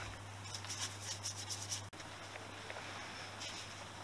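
Dirt and grime being scrubbed off a Honda XL250S engine part, a quick cleaning with soft repeated rubbing strokes, faint and close, over a constant low hum with a brief break partway through.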